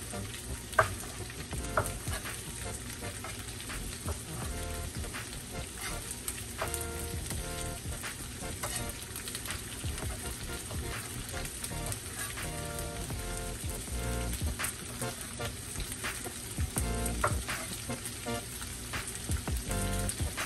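Chopped steak for a burrito bowl warming in a hot pan, giving a continuous soft sizzle and crackle with scattered stirring scrapes and clicks throughout, fairly quiet and with no voices.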